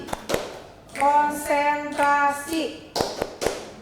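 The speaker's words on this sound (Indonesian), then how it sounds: "ice breaking kali ini adalah tepuk konsentrasi" Rhythmic hand clapping from a group playing the 'tepuk konsentrasi' ice-breaking clap game, sharp claps at the start and end framing a stretch of sung or chanted voices in the middle.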